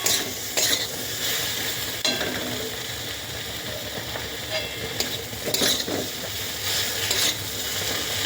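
A curry of brinjal, potato, beans and bori cooks in a pan, with a continuous close sizzle of frying broken by scraping, clinking stirs of a utensil against the pan.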